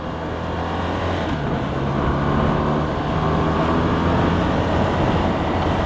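A BMW R1200RT motorcycle rides along a road, heard as a continuous steady roar of engine and wind rush at constant loudness, with no talking.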